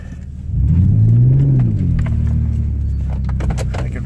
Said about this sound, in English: I can feel the rear wheel, rear spin.